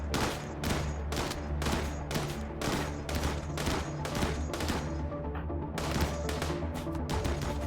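Rapid, evenly spaced gunshots from shooting in the colony game RimWorld, loud and continuous with a short pause before the volley resumes.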